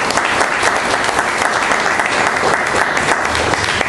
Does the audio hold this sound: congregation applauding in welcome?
yes